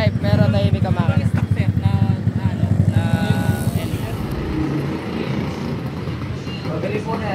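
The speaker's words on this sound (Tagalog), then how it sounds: "Maingay yung pipe pero tahimik ka makina." A motorcycle with a loud exhaust pipe and a quiet engine runs close by on a morning ride, its pulsing rumble strongest at first, then settling to a steadier drone.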